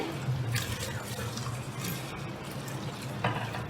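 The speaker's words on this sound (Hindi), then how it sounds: "हम तकरीबन 1/8 कप मैं इसमें पानी ऐड करूँगी" About an eighth of a cup of water is poured into a cooking pot of qeema aloo salan, a minced meat and potato curry, making a steady, soft, continuous splashing hiss.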